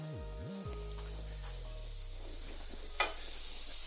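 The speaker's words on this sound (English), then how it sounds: "I'm just going to take these last shrimp off." Shrimp lifted off a hot pan, a steady close sizzling hiss with a single sharp scrape of a utensil near the end and a low electronic hum underneath.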